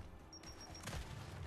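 Frag grenade going off in Gears 5, a single short, muffled blast with a brief crash, heard faintly under game noise.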